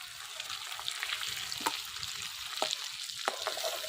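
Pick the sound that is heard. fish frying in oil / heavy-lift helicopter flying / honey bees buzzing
fish frying in oil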